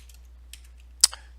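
A few light keystrokes on a computer keyboard during accounting data entry, faint and sparse, ending with one sharper key press near the end over a quiet low hum.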